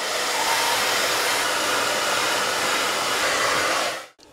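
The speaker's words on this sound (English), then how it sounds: "the Kipozi dryer is wonderful, so I can trust it so I will not burn my hair again" A Kipozi hair dryer blows close and loud in a steady, unbroken rush of air for about four seconds, then cuts off abruptly.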